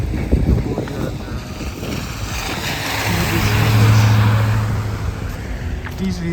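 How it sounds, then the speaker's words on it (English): Snow-clearing vehicles driving along a road, a steady engine drone that swells as one passes nearby, with wind buffeting the microphone and a person talking. "These vehicles are the ones that clear off the roads from the snow"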